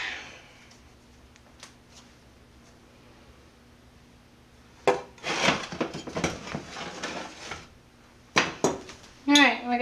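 A bowl is lightly buttered before English muffin dough goes in to rise, with scraping, rubbing and clinking of the dish coming in busy bursts after a quiet stretch, recorded up close in a home kitchen.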